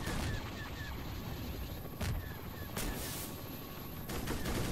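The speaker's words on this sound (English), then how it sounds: "Oh, he's firing those rockets now." Military helicopters fire rockets in a Garry's Mod battle against Star Wars Imperial ships, heard as dense, continuous rumbling bursts with a few sharper blasts standing out over steady loud noise.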